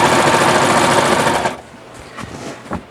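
A 4-thread overlock serger runs along a fabric edge at a 3.5 stitch length, a loud fast steady whir for about a second and a half before stopping, followed by a few faint clicks and handling sounds.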